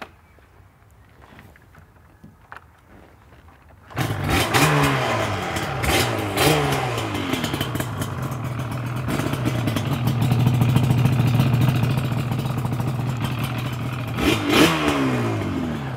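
A Yamaha RD LC two-stroke motorcycle engine starts after a few quiet kick sounds, then idles with a raspy crackle and revs up and down repeatedly, loud and close.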